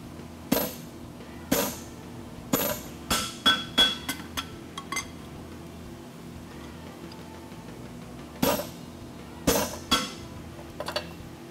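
A blacksmith strikes a hot steel horseshoe on a mandrel at a championship forging event, sharp ringing hammer blows in clusters, some spaced, some quickening into rapid taps, then a pause before more strikes, close and clear.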